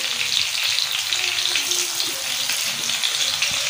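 Spicy Lahori-style fish frying on a tawa griddle, a steady close crackling sizzle of hot oil that holds evenly throughout with faint kitchen clatter underneath.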